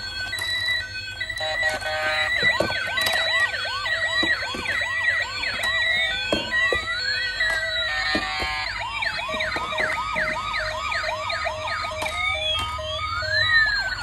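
A battery-powered toy police car's electronic siren wails in fast repeating up-and-down sweeps, loud and close, steady for the whole stretch with no talk.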